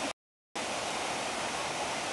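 The Cachoeira das Três Marias waterfall in Balsas, Maranhão, rushes as a steady, dense broadband roar, cut by a brief silent gap near the start before resuming unchanged.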